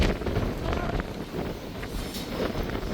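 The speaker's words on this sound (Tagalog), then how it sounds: "ganito talaga kalakas yung hangin kasi mataas na." Strong wind buffets the microphone at a high hillside viewpoint in La Union, a steady loud rumbling roar that continues with no break and no talk.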